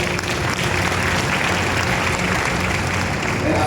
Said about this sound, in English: We give them all a big round of applause